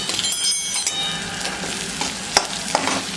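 Green chillies sizzle and fry loudly with onions in a pan, a steady close crackle broken by a few stirring clinks and no talking.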